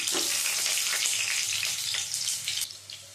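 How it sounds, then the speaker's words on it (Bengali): Boiled potatoes dropped into hot mustard oil in a kadai, a loud, steady close-up sizzle with crackling that eases slightly toward the end, no voices. "গরম তেলের মধ্যে দিয়ে দেব আলু, সেদ্ধ করে নেওয়া আলুগুলো দিয়ে দিচ্ছি।"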